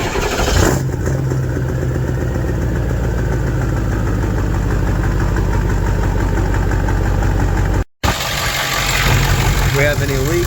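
A van's engine catches on a newly fitted starter and settles into a steady, loud idle close by, its rough rumble running evenly with a brief dropout near the end.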